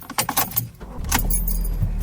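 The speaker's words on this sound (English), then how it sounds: "So we're going to start the car." Keys jangle close by in quick metallic bursts, then a car engine turns over and settles into a low, steady idle.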